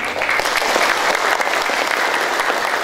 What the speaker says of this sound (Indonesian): Ketua MPR RI Ibu Haja Lestari Murtijat SSMM, berikan aplaus untuk beliau.